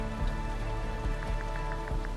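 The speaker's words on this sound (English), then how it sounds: "The rain starts up again." Rain falls steadily in the video game TRON: Identity, a dense patter of drops on surfaces with a few louder taps, set against a faint tonal hum.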